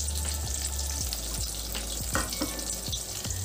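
A ground paste of mustard, cumin, green chilli and salt fries in a pan with lightly fried raw banana for a hilsa curry. Dense, close sizzling is punctuated by regular knocks and scrapes of stirring.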